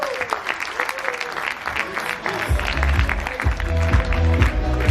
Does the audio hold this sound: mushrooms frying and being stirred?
no